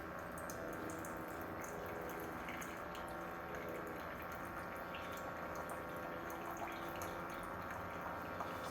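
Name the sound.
TSINGLONG single-serve coffee maker brewing hot water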